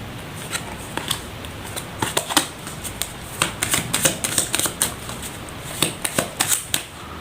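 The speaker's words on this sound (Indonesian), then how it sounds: "Saya shuffle terlebih dahulu" Tarot cards being shuffled by hand, a close series of crisp riffling bursts and flicks in uneven rhythm, alone without talk.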